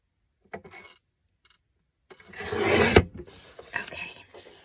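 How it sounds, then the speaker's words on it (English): Paper is trimmed for a junk journal tag: a few light taps and clicks, then a close, rasping cut lasting about a second, followed by quieter rustling. "I'm going to trim this off here."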